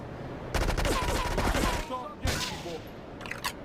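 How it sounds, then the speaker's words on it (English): Sharp rapid sniper rifle gunshot bursts from Grand Theft Auto 3 crack out loudly, followed by a couple of shorter blasts and echoing tails, with game-like sound effects in between. "the sniper makes this sound"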